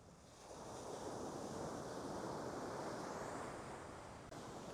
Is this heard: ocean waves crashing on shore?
yes